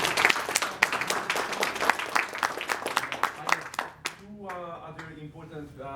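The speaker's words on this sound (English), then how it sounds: "please join me in a final round of applause." Audience at a politics lecture on Israel gives a final round of applause, brisk, close clapping that tapers off sharply and gives way to a speaking voice.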